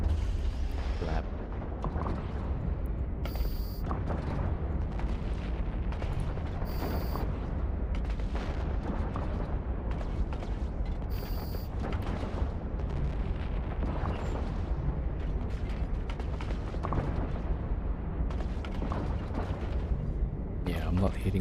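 Battleships blowing up in a Warhammer space battle game, a continuous dense roar of rumbling explosions and booms with sharp high zaps cutting in every few seconds.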